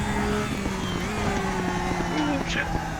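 GT3 race car engines at Suzuka in RaceRoom Racing Experience, a sustained droning engine note with shifting pitch as cars strain, continuous and fairly loud, with someone talking over it.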